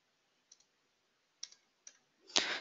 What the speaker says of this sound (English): click on submit button